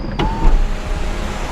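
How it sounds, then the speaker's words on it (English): A car's electric sunroof motor runs steadily after a button press, close and fairly loud, with a short click at the start and a constant whirring hum. "it's a decent car and it have a, what you call it, a sunroof"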